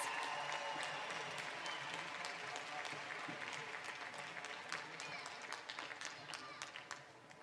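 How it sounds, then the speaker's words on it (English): Quiet applause at a school entrepreneurship awards ceremony for third grade semifinalists, a steady patter of many hands clapping in a hall, fairly faint and gradually thinning out toward the end. "Let's give them a great big round of applause."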